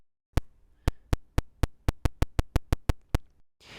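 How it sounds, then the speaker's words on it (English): Sharp clicks from the Gnome 2 analog clock output, fourteen evenly spaced percussive ticks in a steady pulse, loud and close, followed by a short burst of noise at the end. "this output is the analog clock output number 1, which sounds like this."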